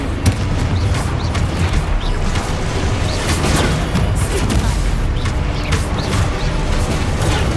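Confringo spell explosions in the video game Hogwarts Legacy, a dense, loud barrage of booms and crashes with constant combat effects and no clear pauses.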